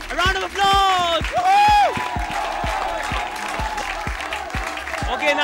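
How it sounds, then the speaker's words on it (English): Rhythmic clapping from an audience at a Nando's 10-year celebration game, steady beats under loud whoops and cheering voices, with people shouting and talking throughout. "A round of applause!"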